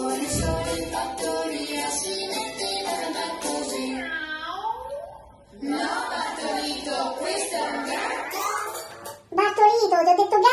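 A voice playfully imitates a cat's meow in the middle of an Italian children's song about a rooster, with sliding pitched vocal calls over bright music and a short pause before the singing resumes.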